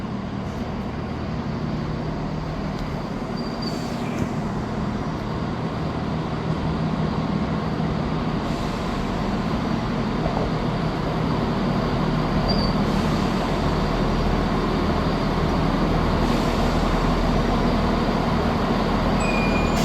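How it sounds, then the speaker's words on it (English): A ScotRail train departs Dundee station, a continuous heavy rumble of engine and wheels holding steady and fairly loud throughout, with faint squeals above it. "Departing out now is the 1324 Scotrail service starting here at Dundee to Arborough."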